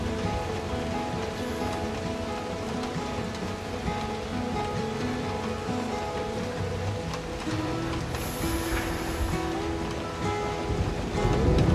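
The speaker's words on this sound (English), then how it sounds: "it's starting to rain harder" Rain falling steadily and growing heavier outdoors, a dense broadband patter that stays constant and close and swells slightly louder toward the end.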